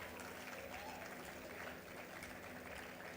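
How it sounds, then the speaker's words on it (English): An audience at a 2016 university convocation ceremony gives steady, distant applause for graduating students as names are read out, a soft even clatter of many hands that continues throughout. "Audience, please cheer our students."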